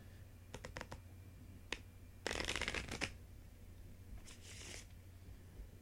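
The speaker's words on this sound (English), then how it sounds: "that's a couple different ways to shuffle the deck" A deck of cards is riffled and shuffled close up: a few quick flicks, then a longer crisp riffle, and another short burst.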